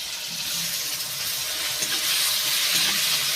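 Ginger paste frying in a pan with tomato and salt, a steady close sizzle with faint scraping and no speech.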